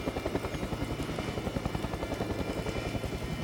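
A rescue helicopter circles over water, its rotor giving a steady, loud rhythmic thudding over a broad engine roar that holds constant throughout.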